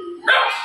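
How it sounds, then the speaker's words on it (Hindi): A dog outside in the cold lets out a single loud, close bark that rises sharply after a short whine-like lead-in and then trails off. "बाहर ठंड में जमीन पे आके बैठ जाता तो भौंक रहा है कि मुझे अंदर क्यों बंद कर दिया"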